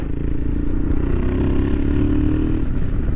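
A Royal Enfield Himalayan 462 motorcycle idling up close, with a loud, steady low engine rumble and a regular mechanical thrum throughout the short stretch.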